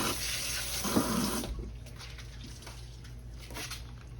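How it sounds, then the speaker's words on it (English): Tap water runs into a sink for hand washing in a home kitchen, a steady hiss that is stronger for the first second and a half, then softer splashing under faint room hum. "Wash my hands here."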